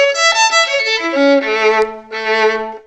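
A violin bowed smoothly with a light, gliding touch, sustained notes sliding between pitches in a soft legato line, heard clearly and alone.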